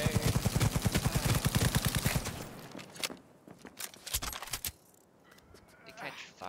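Rapid automatic weapon fire in the Cyberpunk video game, a dense burst of sharp repeated shots for about two seconds, followed by scattered single impacts, clatters and softer effects.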